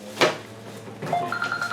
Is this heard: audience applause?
no